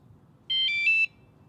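A Geevon e-bike alarm sounds its locking signal: one short, loud electronic chirp-beep sequence of about half a second, stepping through a few bright tones over faint background hum.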